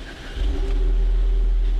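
Sports car engine starting up close by, a low rumble that swells into a steady idle with a slight rev, loud and without voices.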